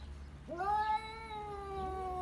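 A female cat in heat lets out a drawn-out, wavering yowl, close and fairly loud, rising sharply and then sustaining a long harmonic wail over a low background hum.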